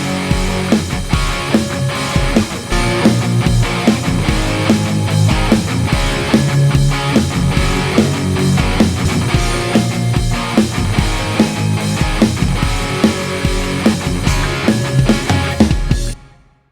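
An electric guitar runs in stereo through an MG-300 to its own mixer channel, playing loud and full within a dense mix with drums and bass that runs steadily until a fade at the end.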